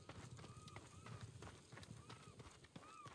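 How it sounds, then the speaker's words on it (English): A riderless horse galloping in the Ghost of Tsushima video game, quick rhythmic hoofbeats running continuously at a moderate distance under game ambience, with whinny-like tones and someone talking over it. "I think I just say a riderless horse"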